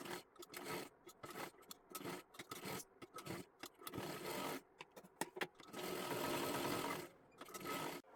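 A sewing machine stitches triangular zigzag seams on a girl's one-piece dress, its motor whirring in close, loud bursts that start and stop repeatedly with short pauses between runs.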